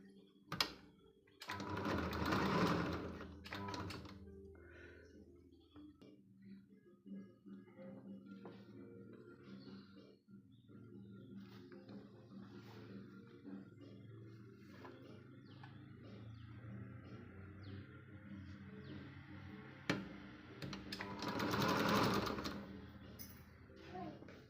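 A sewing machine stitching tucks on a blouse, with two loud bursts of fast rattling stitching at the start and near the end, separated by quieter handling sounds and faint talk.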